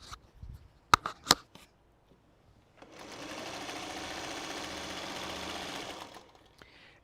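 A few sharp clicks and handling knocks come first, then a sewing machine runs in one steady stitching burst of about three seconds while joining quilt pieces, close and fairly quiet, then stops.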